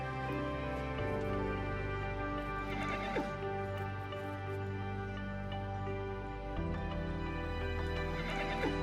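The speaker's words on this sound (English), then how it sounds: "You can see she's neighing for the rest of the group." A Przewalski's horse at a zoo gives repeated loud neighs and whinnies, tonal calls rising and falling over several seconds, with hoof clops and faint background sounds.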